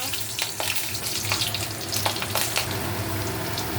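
Nigella seeds and green chili frying in hot oil for shing fish, a steady close crackling sizzle with scattered sharper pops throughout, moderately quiet and with no talk over it.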